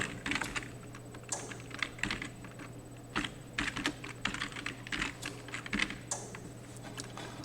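Quiet, irregular bursts of keystrokes on a computer keyboard, heard alone at close range with brief pauses between runs of typing.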